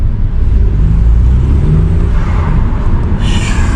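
An Audi A3 fitted with a K&N aftermarket air filter, heard from inside as it drives at low revs: a loud, steady engine rumble and road drone that stays constant throughout, with no talking.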